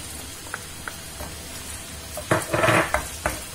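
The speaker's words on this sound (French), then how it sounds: "Donc je le fais rissoler avec mon ketchup." Tomato paste and ketchup sizzle in a pan with a soft steady hiss, then a spoon stirs and scrapes against the pan in a brief burst of clatter, all close by with no talking.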